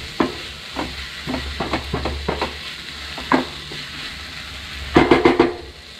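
A spoon stirring and spreading Afghani omelette egg mixture in a frying pan, with a low sizzle beneath repeated scraping strokes that end in a quick cluster of taps.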